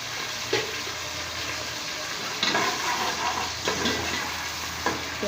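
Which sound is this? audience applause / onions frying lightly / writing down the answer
onions frying lightly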